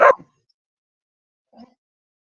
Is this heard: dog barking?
yes